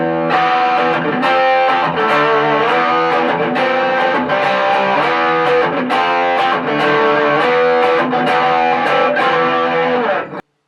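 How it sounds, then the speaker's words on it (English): Ibanez Roadstar II electric guitar played through heavy distortion, strummed chords ringing out loud and gritty, ending abruptly. "That's a dirty tone"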